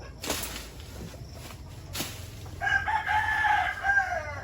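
A chicken crows loudly and close by, a long wavering call filling the second half, after a few soft clucks and scuffing footsteps; no voices.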